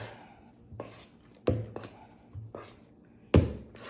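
Hands work pizza dough in a bowl, making soft irregular thumps and slaps with a few sharper knocks, close and fairly quiet.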